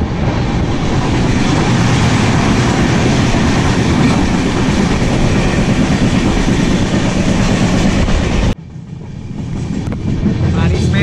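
Howrah–Malda Town Intercity Express running, heard from inside an AC chair car: a steady, loud rumble with rail clatter throughout, dropping sharply near the end to a quieter, thinner running noise.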